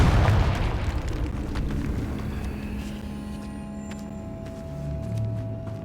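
A Confringo fire spell blast in Hogwarts Legacy erupts as a loud burst at the very start, then trails off into a fading rumble beneath steady game ambience.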